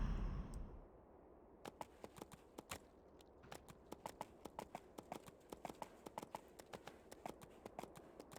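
Horse hooves clip-clopping in a steady quick rhythm while riding in the online role-playing game EverQuest II, close and clear with no talk over them.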